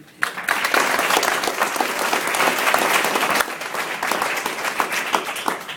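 A graduation audience bursts into loud applause for a departing teacher, dense clapping starting abruptly and continuing steadily.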